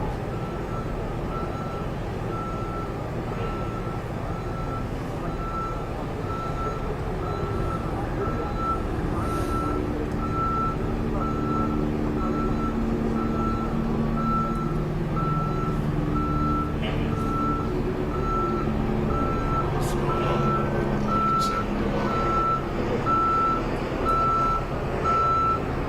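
A jail bus backs up with a steady train of evenly spaced reversing beeps over a continuous engine rumble and street noise, loud and close throughout.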